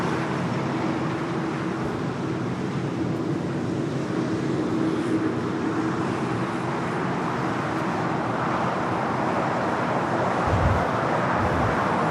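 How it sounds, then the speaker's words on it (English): A Boeing 747-8 freighter at LAX gives off a steady, broad jet roar that holds evenly from start to finish with no voices. "This is a 747-8 freighter."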